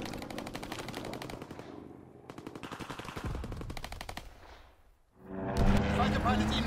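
Rapid machine-gun bursts from a fighter plane's strafing run in a video game, loud and repeated in long rattling volleys, with a pause before a heavier roar and crackle of impacts near the end.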